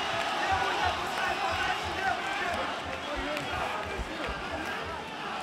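A steady roar of crowd noise fills the arena during a ONE Championship MMA bout, loud and continuous with thumping movement and talking mixed in.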